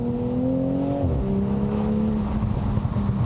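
A 2020 Toyota Supra A90 engine drones steadily at high revs, its pitch dropping with a gear change and then holding, loud and close inside the car.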